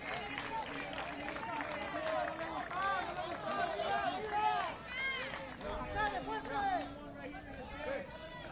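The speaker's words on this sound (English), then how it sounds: "See the Texas crowd pumping up energy." A Texas crowd at a Senior League Baseball World Series game cheers and chants in the stands, a steady, lively roar with rising shouts, heard at a middle distance under a commentator's voice.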